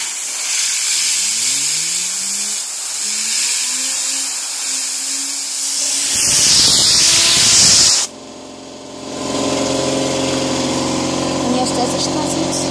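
A fidget spinner blasted to very high speed with a can of compressed air gives a loud, steady hissing whine that rises in pitch, then cuts to a harsher, roaring spin; someone talks over the start.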